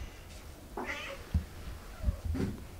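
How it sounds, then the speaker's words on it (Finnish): A small white cat meows loudly, giving a couple of drawn-out cries close by, mixed with light thumps and rustling indoors. "täällä on toinen kissa, se on tämmönen pieni valkoinen mytty, joka aina huutaa ihan vitusti"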